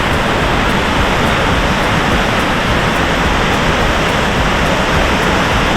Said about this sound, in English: this is his favorite waterfall in Bali